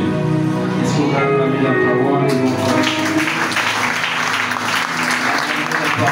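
A church congregation applauding the word of God, a loud sustained burst of clapping that swells in the middle and fills the room, with a voice heard briefly at the start.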